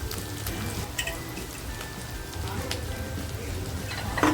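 Spice paste frying in a pan for Kolhapuri mutton, a steady close sizzle with faint crackle running throughout, with light background hum.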